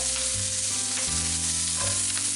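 Onions hit a very hot pan for a tomato pasta sauce, giving a loud, steady sizzle and crackle that runs unbroken through the whole stretch, with no voices over it.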